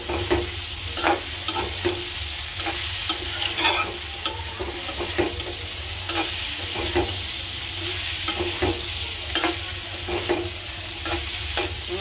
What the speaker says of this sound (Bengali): আমার ভাজি হয়ে যেতেছে, ঢেঁড়স ভাজি